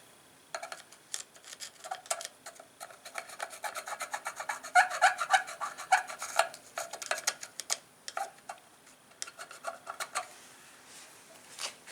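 Old grease is scraped out of the rear wheel hub of a 2004 Suzuki RM-Z250 motorcycle, a close run of dry rasping strokes in uneven rhythm that stops and restarts, with no talk.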